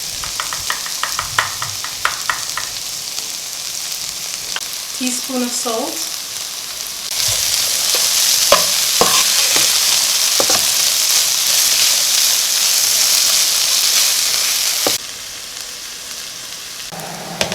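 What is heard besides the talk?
curry pigeon peas stir frying in a pot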